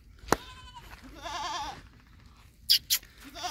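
A male Sirohi goat bleats in a wavering, nasal cry up close, with a few sharp knocks and rustles around it and faint background noise.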